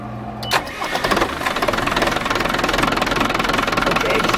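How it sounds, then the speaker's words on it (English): A diesel engine cranks briefly, catches and settles into a loud, steady idle with an even knocking rhythm, heard up close and alone. "Go ahead and start the engine if you can."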